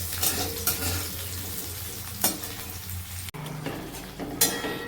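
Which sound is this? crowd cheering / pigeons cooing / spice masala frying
spice masala frying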